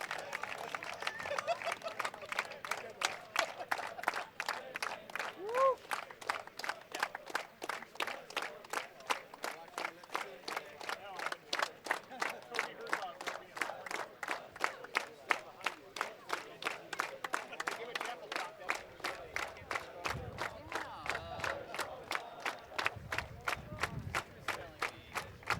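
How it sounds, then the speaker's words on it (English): After a college soccer game, fans clap in a steady rhythmic beat that carries throughout, with crowd noise and distant voices mixed in at a moderate distance. "along with a nice round of applause for the Little Giant faithful."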